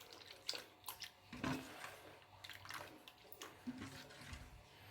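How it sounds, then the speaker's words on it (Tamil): Water is poured into rice batter for neer dosa, a thin Mangalore rice-batter pancake, in a few soft, quiet splashes and trickles separated by short pauses. "இதில் இன்னும் ஒரு 1/2 கிளாஸ் தண்ணி சேர்க்குறேங்க."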